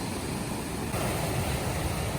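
Pacific Ocean waves breaking on a rocky shore along a coastal trail, a steady broadband wash of surf that swells louder partway through, mixed with some wind noise and no talking.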